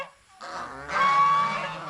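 Domestic geese outdoors at a small farm hut give a run of loud, close honks, one sustained nasal call rising over the others with a low, steady backdrop behind it.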